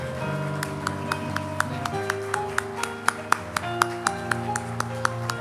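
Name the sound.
congregation applauding a child's baptism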